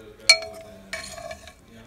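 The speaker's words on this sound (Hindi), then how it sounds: "टमाटर को इसी में हम लोग मैश कर देंगे" A ladle clinks against a pot while mashing cooked dal and tomato, with one sharp metallic knock followed by a softer stretch of scraping and clattering, close by and brief.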